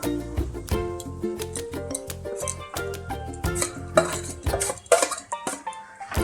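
Boiled, deboned rohu fish mixed with spices in a bowl, heard as repeated metallic scraping and clinking of a utensil against the dish, close and busy with irregular knocks, over a steady musical tone and without speech.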